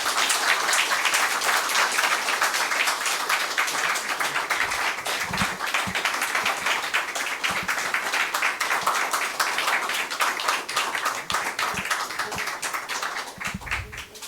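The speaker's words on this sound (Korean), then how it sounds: "여러분 이분들 나오실 때 박수 부탁드립니다" Audience applause at a declaration ceremony as declaration readers of all ages, from children to teachers, come forward; steady, dense clapping carries on at moderate loudness throughout, with a few low thumps.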